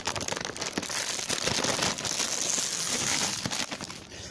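Continuous close crinkling and rustling of a plastic vacuum storage bag for several seconds, with small scraping clicks as its zipper slider is run along to close it.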